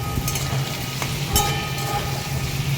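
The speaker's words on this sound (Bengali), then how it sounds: "ওদিকে আলুটাও ভাজা হচ্ছে" Potatoes frying in a pan give a steady, loud close sizzle with an occasional stir or scrape of a spatula, and no voices over it.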